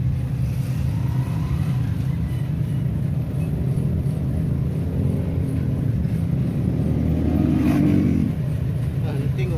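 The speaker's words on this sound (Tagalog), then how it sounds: "Eh, maingay yung tricycle." Motor tricycle engine running loud and rough from aboard while riding, a steady low rumble throughout with a brief rise near the end; voices may be faint underneath.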